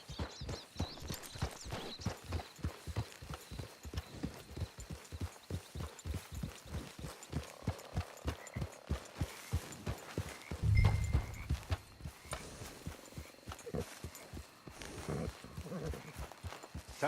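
Horse hooves clip-clop at a steady walking rhythm in the video game Red Dead Online, moderately close and alone, with a brief low thump partway through.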